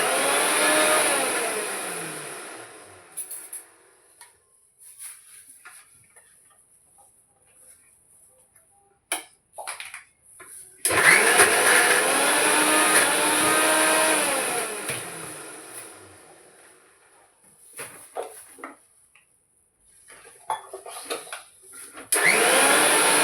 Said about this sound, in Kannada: ಮಿಕ್ಸಿಗೆ ಮಾಡ್ಕೊತೀನಿ.